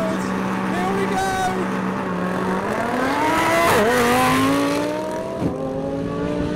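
Mercedes-AMG GT63 and Lamborghini Huracan in a drag race, loud sustained engine roar with rising revs and gear changes, close by and continuous, with a voice talking over part of it.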